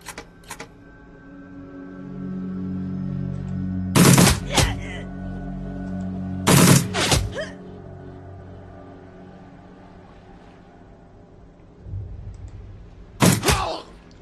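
Three sharp bursts of gunfire in the Shadowrun Returns video game ring out over a low ambient game hum, each burst a quick cluster of loud shots.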